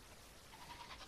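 Sheep bleating in The Last of Us Part II, a faint, short wavering bleat rising out of soft ambient noise.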